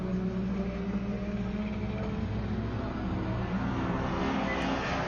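Mazda RX-7 FD rotary race car on a hot lap around a track, its engine a steady, dense drone held at a distance, droning on without a break through the whole stretch, with no voices on top.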